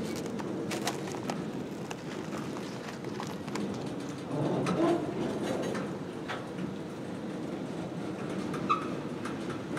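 CSX freight train Q410, led by locomotive 5426, easing through a slow reverse move: a low, steady rumble at a distance with faint clanks, and a few bird calls outdoors.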